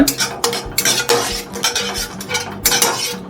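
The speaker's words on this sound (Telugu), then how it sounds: "ఒక స్పూన్ హనీ వేసుకుందాం, అంతే. బాగా ఇలా మిక్స్ చేసేసుకున్న తర్వాత" Honey being stirred into a pan of garlic sauce for honey garlic prawns, with repeated scraping and clinking of a spoon against metal in an irregular rhythm, close and fairly loud, with no speech.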